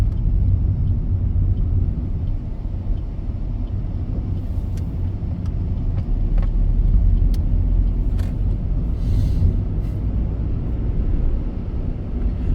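A car on a driving-test route heard from inside the cabin: a steady low engine and road rumble holds throughout at even loudness, with faint clicks and rattles above it and no talking.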